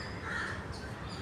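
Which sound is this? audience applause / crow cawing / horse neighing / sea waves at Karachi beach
crow cawing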